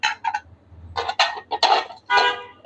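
Ceramic plates handled on a showroom display during a discount sale, producing several short clinks and knocks in separate bursts, close and fairly loud, with no talk.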